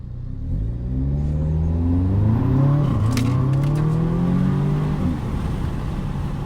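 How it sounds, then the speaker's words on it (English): A 2017 Audi S3 accelerating hard, its engine note climbing steadily through the revs as a loud, sustained drone with one brief dip around a gear change, close by and with no talk. "a clip of me from a year ago, accelerating really fast, and one of my favorite cars that I've ever owned"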